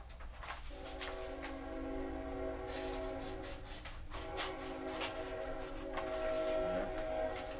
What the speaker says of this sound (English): We live close to a train. I don't know if you could hear that, but I'm assuming you could.